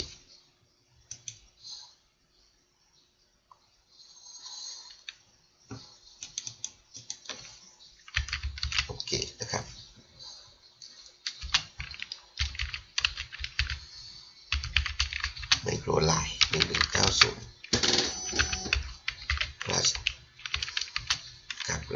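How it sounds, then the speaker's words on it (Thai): Fingers type on a computer keyboard in sparse clicks at first, then dense, rapid bursts of close, crisp keystrokes that keep building toward the end. "ก็พิมพ์คำว่า driver สักนิดหนึ่ง"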